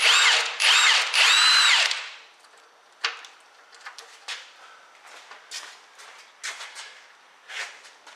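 Power tool unbolting a part on a 1964 Ford Thunderbird steering during a choke and steering repair: a loud opening burst of whirring drill, then short, sharper clanks and taps of tool work, fairly close, with no talk.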